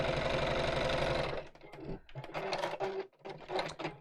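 A sewing machine stitching fabric for patchwork, running in a fast steady rattle for over a second, then continuing in short stop-start bursts of stitching with brief pauses between.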